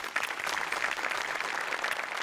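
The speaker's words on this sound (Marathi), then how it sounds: "मोठे आणि अमोल पाटलांसाठी एकदा टाळ्या वाजव्या." A studio audience at a Marathi television comedy show bursts into dense, continuous applause after a skit, a steady wash of many hands clapping without pause for the whole stretch.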